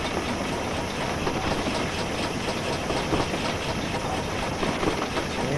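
Small prairie steam locomotive running in a train simulator game, a steady dense chuffing and rolling rumble with faint rail clatter, continuous and fairly close, no talk.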